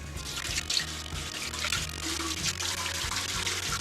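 A whiting fillet is rinsed under a running tap, a steady close splashing rush of water filling the whole moment with no talk.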